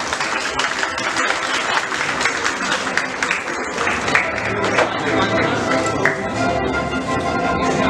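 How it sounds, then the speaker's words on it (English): An audience at an award felicitation event claps steadily in a sustained round of applause, dense and moderately loud, with some crowd murmur mixed in. "Can we have a huge round of applause for the girls team of the Club Award event?"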